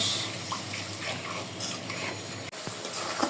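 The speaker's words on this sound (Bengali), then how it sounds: "মশলা কষানোর জন্য একটু গরম পানি দিয়ে দেব" Hot water poured into spice paste frying in a pan for a chicken curry with potatoes gives a steady, loud sizzling hiss and bubbling that runs unbroken, with a brief dip and a faint clink near the end.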